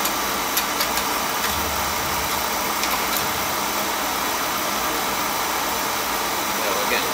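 A Beckett oil burner fires on a Weil McLain oil boiler, giving a steady, close, broadband roar that holds even throughout, with faint ticks near the start.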